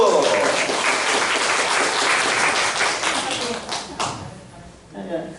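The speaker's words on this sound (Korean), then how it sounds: "박수!" A church congregation breaks into loud, dense applause that fills most of the moment, then thins into scattered claps as a voice begins to speak near the end.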